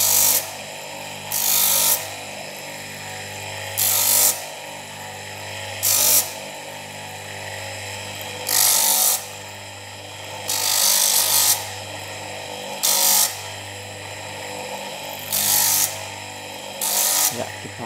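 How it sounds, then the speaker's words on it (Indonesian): Copper and brass ring being sanded by a power tool in repeated bursts, each lasting about a second, spaced roughly every two seconds, over a constant motor hum. "Kita amplas terus, kita cari mana yang perlu diamplas"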